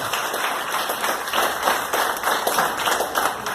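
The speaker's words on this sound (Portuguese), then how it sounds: "Aplauda o nome do Senhor Jesus." Church congregation applauding during a Portuguese-language sermon, a steady wash of many hands clapping at moderate loudness throughout, with no words spoken.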